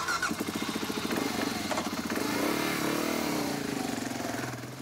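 A motorcycle engine revs and pulls away, its throbbing mid-pitched putter rising and then easing off as the bike rides off, close at first and fading slightly toward the end.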